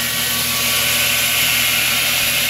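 A 130-volt DC motor drives a 2x72 belt grinder, running at a steady, close, continuous whine with a broad hiss and a constant hum, no pauses or voices.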